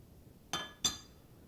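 Two quick bright clinks of a spoon against a dish while spooning enchilada sauce, faint and close, spaced about a third of a second apart.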